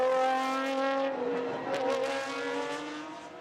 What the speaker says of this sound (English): It's a proper Formula One style scream, isn't it, as the cars come down the pit straight